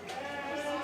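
A lamb bleats in one short wavering call in the show ring at a county fair, close and fairly clear.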